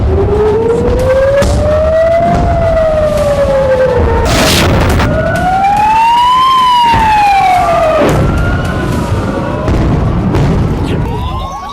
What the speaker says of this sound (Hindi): कलेजे को चीर देने वाली अलर्ट सायरन की आवाज